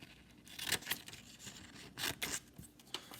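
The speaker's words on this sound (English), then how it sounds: "I'm just going to cut" Scissors cutting paper for a craft activity, a few quick soft snips and rustling cuts heard close and faint, with no talking.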